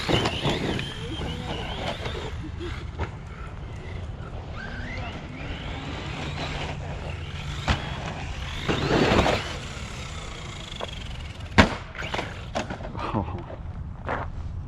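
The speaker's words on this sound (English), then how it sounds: "that was some running footage of the Spektrum DX5 Pro running for the first time on a Team Associated Rival MT8 on 6S." Team Associated Rival MT8 RC monster truck on a 6S battery, driven with a Spektrum DX5 Pro radio, running and bashing at close range, with bursts of motor whine and rough, clattering terrain noise and a few sharp knocks.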